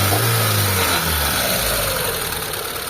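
A misfiring Mitsubishi Lancer GSR engine idles loud and close, its uneven running punctuated by low stumbling pulses and a faint whine on top.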